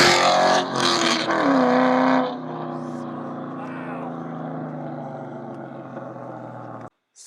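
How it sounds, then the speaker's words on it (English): A 2001 Ford Mustang Bullitt roars loudly past at close range on a racing outing, its engine note rising then settling into a steady drone as it moves away, ending with a brief dropout. "So here's a little video of my Bullitt just doing a drive-by out there."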